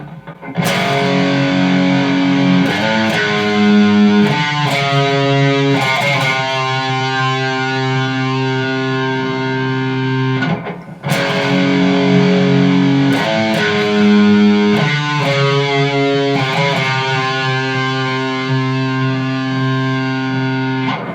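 Heavy distorted electric guitar plays a slow, dark single-note riff, phrases repeating twice with a brief pause between; loud and thick.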